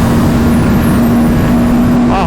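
An RS 457 motorcycle engine drones loud and steady at high speed around 100 miles an hour, a constant buzzing tone with heavy wind rush close to the rider.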